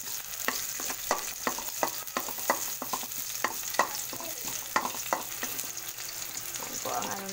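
Garlic and onion sautéing in a pan, with a steady sizzle broken by frequent sharp spatula taps and scrapes in an irregular rhythm, close up and with no talking.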